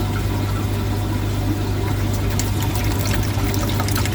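Liquid pours steadily into a one-litre measuring container, a continuous close splashing wash with a low hum underneath and no talk.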